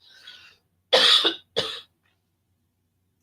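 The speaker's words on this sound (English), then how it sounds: "hold on, I got a cough." A short burst of coughing, two harsh coughs close to the microphone in a quiet room, preceded by a faint throat sound.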